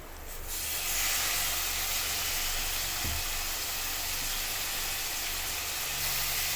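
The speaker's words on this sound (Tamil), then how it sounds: "இப்போ மீல் மேக்கர் வந்து நல்லா ஃப்ரை ஆகிடுச்சு." Soya chunks (meal maker) frying in a pan with mint give a steady, close hiss of sizzling oil that holds level throughout, with a faint low knock partway through.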